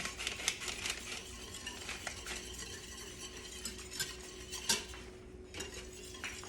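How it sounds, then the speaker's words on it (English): A utensil stirs sauce mix thickening in a pan with oil, making steady scraping and clinking against the metal with a few sharper knocks, close and fairly quiet. "the key to this is just to keep stirring it"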